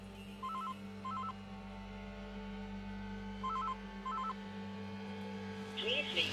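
A landline telephone rings faintly in two pairs of short electronic bursts, thin and distant, over a steady background hum with light talk.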